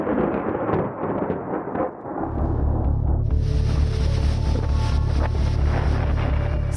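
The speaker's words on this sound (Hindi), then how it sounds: "समंदर में लहरों का शोर" Heavy sea surf during Cyclone Tauktae pounds the shore, a loud continuous roar with strong wind buffeting the microphone and low rumbling throughout, growing denser and harsher midway.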